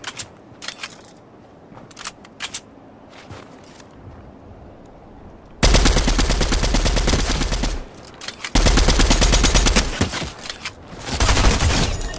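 Video game gunfire starts as scattered sharp single shots, then breaks into several long, loud, sustained automatic bursts with brief pauses between them.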